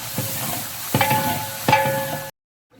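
Meat with biryani masala and achar gosht masala fries in a large pot for chicken biryani, a loud sizzle broken by a few sharp metallic stirring scrapes before cutting off abruptly.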